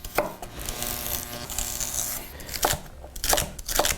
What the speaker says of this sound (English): So the celery, I'm just gonna trim off the ends, and I'm gonna split them down.